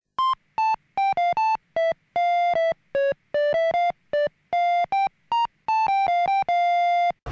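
An electronic tone sequence plays from a payphone, with roughly two dozen short, loud, beeping pitches in an uneven melodic run that have clear gaps between them, heard close and alone.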